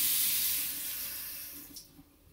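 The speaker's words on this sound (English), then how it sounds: "Watch how I pull the sink handle down." A sink faucet runs after its handle is pulled down, a close steady hiss of flowing water that gradually fades as the flow eases, with a small clink near the end.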